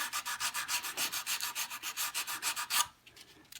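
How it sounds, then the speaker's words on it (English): Hand sanding on the wooden body of a tenor guitar makes rapid, even back-and-forth rasping strokes, close and quiet, about twenty strokes that stop abruptly near the end. "I'm just going to start sanding."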